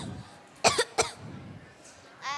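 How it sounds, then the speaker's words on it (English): Several sharp coughs, two to three close together, from a performer in a 4-H health and safety skit about feeling sick at the Ohio State Fair, with a short pause and faint sound after. "Coughing."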